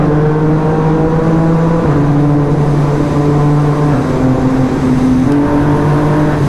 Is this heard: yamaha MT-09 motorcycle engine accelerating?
yes